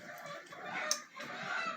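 Broody hens giving soft, low clucks close by in a quiet coop, a short murmuring run of sounds with no talking.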